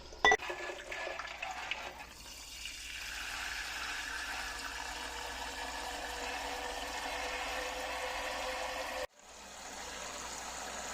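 Hot water rushing steadily into a water bath canner full of pickle jars, a continuous close splashing pour that cuts off sharply near the end, with no talking.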